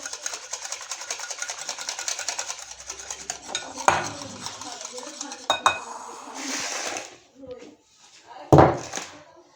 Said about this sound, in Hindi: इसे अच्छी तरह से फेंट लूँगी मैं दही को।